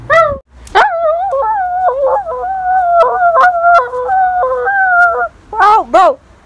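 A dog barks and yelps excitedly while jumping on a person, with long, wavering, whining barks sounding close and loud, and a few short sharp barks at the start and end.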